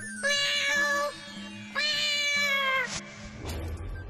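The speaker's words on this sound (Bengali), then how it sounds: "আসলে রানী হলো এই বিড়ালটার নাম।" Cartoon cat meowing, two long drawn-out clear meows close up, then a short rustling noise.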